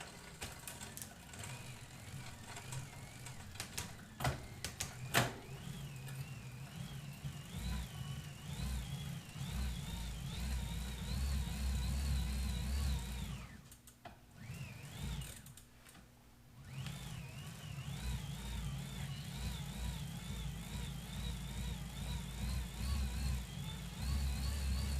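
Indoor magnetic resistance bicycle trainer running in a high gear, a steady mechanical whirring hum with a rising and falling tone as pedalling speed changes, a few sharp clicks early on and a brief dip midway.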